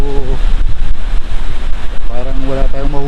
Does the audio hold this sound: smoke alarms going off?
no